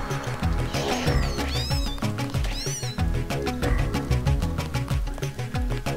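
Several cat meows ring out over busy game music with sharp percussive hits in the video game Deus Ex, in sewers below an airfield, the meows rising and falling in quick succession.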